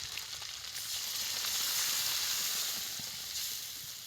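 Spiced water poured onto pomfret fish frying in a pan, producing a soft, continuous hissing sizzle that swells and eases gently, with no voices.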